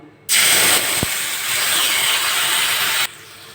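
A loud, steady hiss of tomato and red chili paste hitting hot oil, starting abruptly and holding for about three seconds before cutting off.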